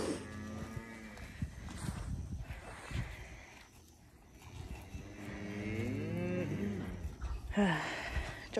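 Cows moo loudly and repeatedly nearby, several drawn-out lowing calls overlapping with outdoor rustling.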